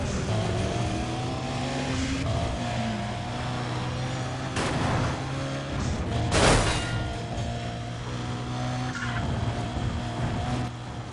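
Car engine roaring and revving in the racing game Need For Speed Undercover, loud and continuous, with gear shifts, a few sharp crash-like bursts and impacts over a steady drone.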